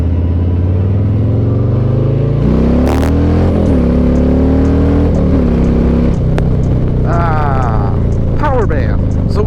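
A Milwaukee-Eight motorcycle engine pulls through its power band, its loud rising drone climbing in pitch through several stepped accelerations, with a voice talking over it.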